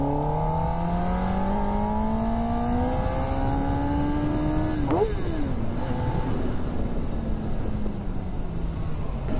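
A 2025 Kawasaki ZX10R superbike revs hard on a night ride, its engine note climbing steadily in pitch before snapping off midway and settling back to a lower, rumbling idle. It is close and loud throughout.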